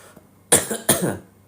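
Two sharp, close coughs in quick succession, loud and harsh, with a brief pause between them.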